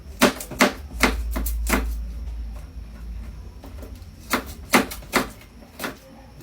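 Garlic is prepared for pancit with sharp, irregular knocks on a board, a few quick strikes in clusters with pauses between, close and fairly loud, over a faint low hum.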